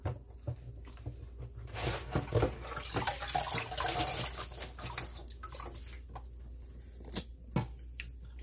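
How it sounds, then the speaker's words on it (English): A kitchen sink tap running water while salad is drained, a steady splashing rush with drips and patter, louder in the middle and easing toward the end, with no talking. "I will drain my salad."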